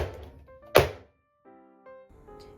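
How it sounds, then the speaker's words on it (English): A baking sheet is banged once on a counter, a single sharp metallic bang followed by a faint ringing decay and quiet kitchen sounds. "Bang baking sheet to reduce air bubbles."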